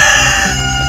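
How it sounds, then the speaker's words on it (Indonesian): A chicken clucks and crows loudly up close in a short, squawking burst. "Ini ayam berisik banget."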